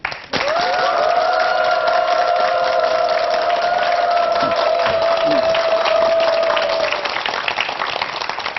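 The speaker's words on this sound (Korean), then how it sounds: "오늘 우리한테 강의해 주실 최창호 박사님을 큰 박수로 초대하겠습니다" Audience applause greets lecturer Dr. Choi Chang-ho at a televised psychology talk, a steady dense wash of clapping lasting several seconds with a sustained musical tone running under it.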